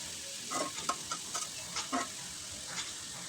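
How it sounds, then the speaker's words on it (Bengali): Cabbage frying with egg, tomato and green chili in a pan, stirred with a utensil; a soft, steady sizzle runs throughout beneath faint scraping and light clinks, quiet and close. "পাতাকপি দেওয়ার পর আমি একটু নিয়ে দেব নেড়ে চেড়ে ভালোভাবে মিশিয়ে দিতে হবে"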